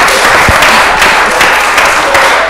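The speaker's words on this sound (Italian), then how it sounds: "Fate un applauso." Loud, close applause for a young football player from a group of kids and adults, a dense continuous clatter of hands with a few sharper individual claps standing out.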